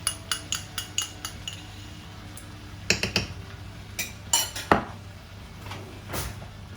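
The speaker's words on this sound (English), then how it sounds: "And lastly our tomato puree, and then we'll just give that a good mix together." A utensil clinks and scrapes against a pot while chilli with beef stock and tomato puree is stirred, with a quick run of sharp taps followed by scattered louder knocks, close by and with no talking.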